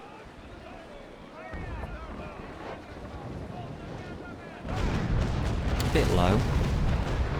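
Ship cannons fire in the naval combat game Naval Action: a loud, broad booming burst erupts near the end over wind and water noise, with someone talking beforehand.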